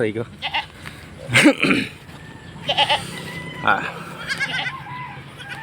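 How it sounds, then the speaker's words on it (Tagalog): Goats bleat several times in loud, wavering cries, some close and some overlapping, with quieter rustling and movement between calls. "labas ko muna yung mga alaga akong kambing"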